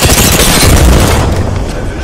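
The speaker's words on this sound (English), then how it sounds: "Look out, grenade!" Grenade blast in the Apex Legends video game, a loud, close booming burst with rumbling low end and crackling that fades slightly over two seconds.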